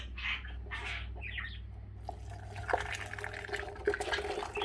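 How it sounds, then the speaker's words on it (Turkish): Homemade rose water is poured through a strainer and a funnel into a jar with a soft, faint trickle and small splashes, and bird chirps sound in the background. "Süzeye döküyoruz. Altta huni var. Ve kavanoza doluyor arkadaşlar."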